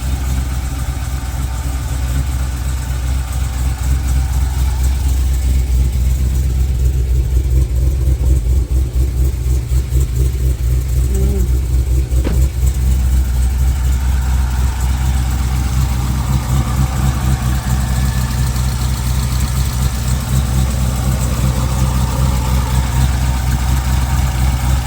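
A car engine fitted with a Harrop supercharger idles steadily and loudly up close, a constant low rumble with supercharger whine and no revving.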